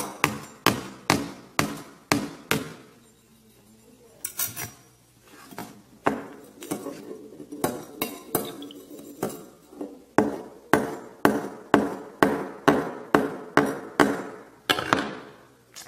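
A hammer strikes a Samsung Galaxy Note 3 phone in repeated sharp, hard knocks, loud and close, in quick rhythmic bursts with a short pause near the middle.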